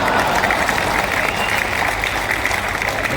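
Audience applause at a poetry reading by poet Surendra Sharma in Chittorgarh, a dense steady wash of clapping from a crowd that continues for a few seconds with some voices mixed in.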